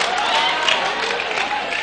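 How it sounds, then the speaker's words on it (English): A congregation at a Sunday church service claps in a dense, steady burst of applause, fairly loud and continuous, with a faint voice mixed in underneath. "Don't clap, don't clap. It doesn't call for clapping."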